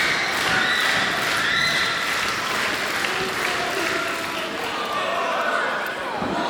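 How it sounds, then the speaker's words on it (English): A wrestling crowd at an IPW live show in Hamilton cheers and claps in a steady, dense roar that fills the hall, with thumps from the ring and voices calling out through it. "The crowd rallying behind Saint."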